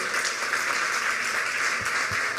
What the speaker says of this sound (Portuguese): Eu ia pedir também uma salva de palmas ao Alexandre dos Reis, mas vocês já deram a salva de palmas, peço de novo